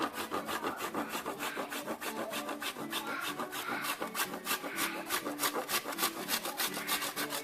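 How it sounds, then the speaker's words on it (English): Chocolate is rubbed against a very small hand grater in fast, continuous back-and-forth strokes, a close, rhythmic rasping scrape that keeps going without pause and without any talking. "you take some chocolate, which I got this right here, and a small grater"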